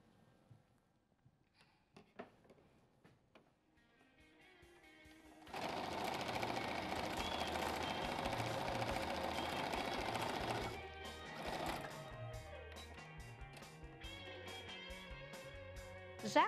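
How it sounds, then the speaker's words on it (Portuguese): A sewing machine runs steadily for several seconds as it stitches a seam along two layers of fabric placed right sides together, preceded by a few quiet handling taps and followed by softer, intermittent stitching. "Boto o tecido direito com direito e vou fazer uma costura aqui."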